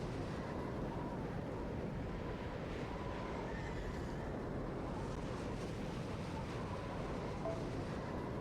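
Wind blows steadily in the video game Fate/Grand Order, a constant low rushing broadband roar that holds evenly throughout with no speech.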